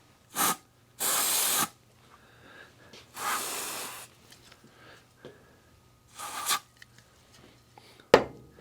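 FastCap super glue activator is sprayed in several short hissing bursts with quiet gaps between them, close and fairly loud, and a brief sharp knock near the end.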